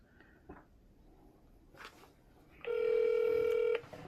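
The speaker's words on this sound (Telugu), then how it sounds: "ఇప్పుడు మూడో దానికి చేద్దాం ఏస్ మెడికల్ క్లినిక్ అంట" A telephone dialing out to a medical clinic: a few faint taps and rustles, then a loud, steady dial tone lasting about a second, close and clear.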